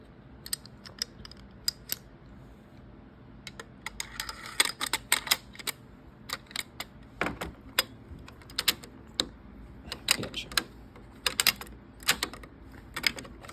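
Small metal trigger-mechanism parts of an AK rifle are fitted together, giving irregular sharp clicks and snaps, some in quick clusters, close by with no talking.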